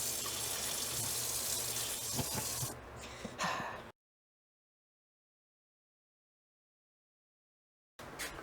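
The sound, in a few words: cold water running from tap into steel sink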